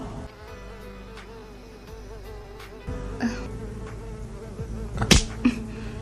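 A mosquito's thin, high whine hovers nearby, steady at first and then joined by a louder rustling stretch with sharp slaps or clicks, with no speech.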